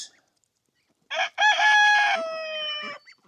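A rooster crows close and loud after a short clucking call, a long drawn-out cock-a-doodle-doo from a backyard flock of chickens, with near silence before.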